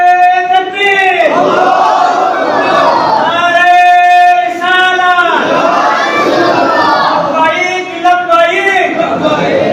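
A large crowd at a religious gathering on the martyrs of Karbala shouts together in loud, chant-like unison bursts answering a takbir call, repeated several times, each swelling and fading.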